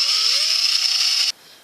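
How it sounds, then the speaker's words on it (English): Power drill widening small screw holes for wooden book wall decor, a steady high whine with a slowly rising motor pitch that cuts off abruptly after just over a second, close and alone. "So all we got to do is drill that out."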